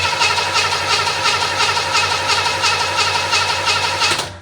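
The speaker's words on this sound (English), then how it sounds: "let's just give power to the starter. Let's see if it spins." A 1975 Chevrolet Monza's 350 V8 cranking on its starter, a loud, steady rhythmic churning of the engine spinning over for about four seconds before cutting off.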